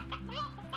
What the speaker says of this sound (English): chicken, chicken, chicken, chicken. Oh, there's so many stony hens.